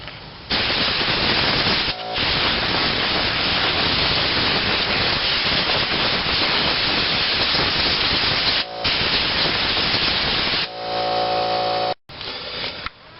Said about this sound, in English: I kind of had to wait for the air compressor to shut off